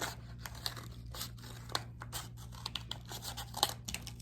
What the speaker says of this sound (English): So I'm just gonna go ahead and take my scissors